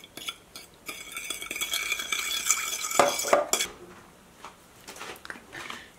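A spoon clinks and scrapes against a plate while stirring two big spoonfuls of sugar into about 50 cc of hot water, a quick rhythmic stirring up close, with a few sharper knocks midway.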